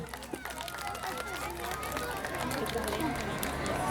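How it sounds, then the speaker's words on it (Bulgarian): An audience claps for kindergarten children at a performance, a scattered patter of hands that swells to steadier applause amid crowd chatter. "аплодисменти за децата, момичетата и момчетата от детска градина Здравец!"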